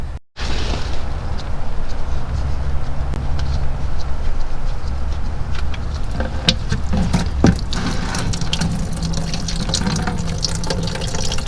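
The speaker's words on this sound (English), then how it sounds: "So I'm just going to take out this small plug and drain out like half the fluid." Fluid and water run out of an open transmission drain plug on a 1942 Farmall M tractor that sat unused for more than 20 years. The flow is a steady, close splashing stream that carries on through the whole stretch, with a few clinks over it.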